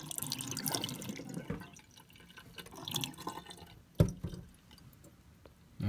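Water poured and dumped out of a small homemade miniature toilet built to demonstrate a siphon jet, splashing and dripping in uneven bursts with a sharp slosh near the end.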